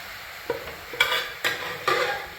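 Lentils are stirred into a moringa leaf thoran in a pan, giving four quick scraping strokes over a low sizzle, close up, with no voices.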